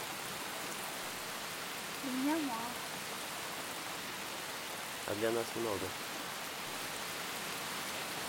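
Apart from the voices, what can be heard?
rain falling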